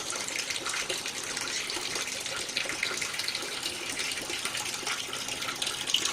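Water gushes steadily out of a hole in a pipe in a rose-water distilling setup, a continuous close splashing flow at an even level throughout.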